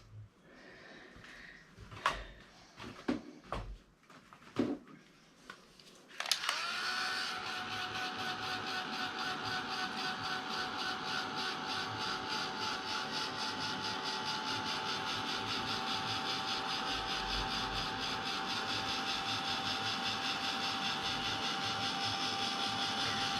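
After several knocks and clicks, an electric dryer switches on and blows steadily to dry paint on a piece of artwork, a continuous close whirring hum.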